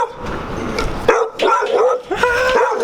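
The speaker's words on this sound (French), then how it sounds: "Il y a beaucoup de chiens dans les maisons autour, puis ça jappe beaucoup." Several dogs bark and yip from nearby houses around a beach camping spot in Mexico, with sharp repeated barks and whining tones overlapping, loud and fairly close.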